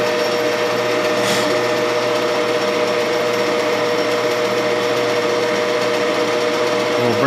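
A machine tool chamfering the edge of a two-spigot fuel T for Keihin V4 carburetors, a steady continuous whirring hum with tonal motor whine and faint cutting noise, loud and unchanging throughout.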